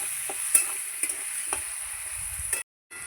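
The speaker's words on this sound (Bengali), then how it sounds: "আলুটা আমি লাল লাল করে ভেজে নেব।" Potatoes fry in a pan, sizzling steadily up close, with several light scrapes and knocks of a spatula before the sound cuts out briefly near the end.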